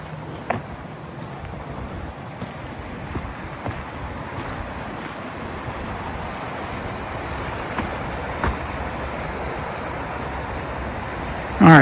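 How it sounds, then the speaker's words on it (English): Loud, steady rush of Conneaut Creek flowing at night in the woods, a continuous broadband roar with a few faint clicks and knocks, no voices. "the water's pretty loud"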